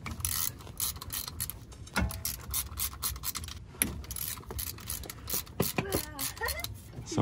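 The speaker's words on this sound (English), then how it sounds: "removing these bolts around this inside of the CV axle" A wrench works loose the bolts on the inner CV axle of a 2007 GMC Sierra, giving a steady stream of close metallic ratcheting, scraping and clicking with sharp knocks throughout.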